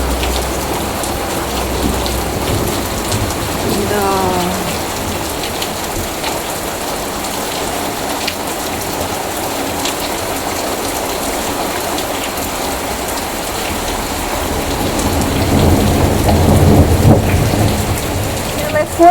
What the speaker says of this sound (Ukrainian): Дощ разом із градом.